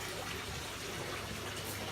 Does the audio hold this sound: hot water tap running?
yes